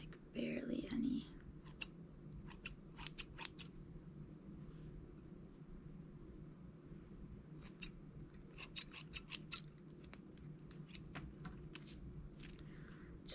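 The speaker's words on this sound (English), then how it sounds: "get my handy dandy scissors here" Scissors trimming the ends of hair in a quiet ASMR setting, sharp irregular snips in short bursts, close and soft, with faint whispering underneath.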